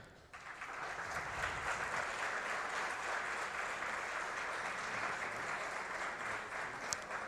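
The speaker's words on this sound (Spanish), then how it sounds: "recibamos con un fuerte aplauso a nuestro ponente, el maestro Amaury Fierro González" An audience at a cybersecurity lecture breaks into sustained, even applause to welcome the speaker, a dense wash of clapping that holds steady for several seconds.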